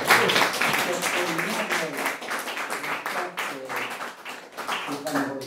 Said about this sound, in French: demande d'applaudir.